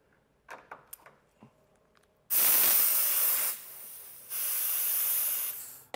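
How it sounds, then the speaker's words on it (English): Soapy water is sprayed onto push-connect air line fittings of an air bag setup in bursts, after a few faint knocks and clicks: one long loud hiss, a brief pause, then a second sustained spray. "Now we'll just spray down all of our push connect fittings"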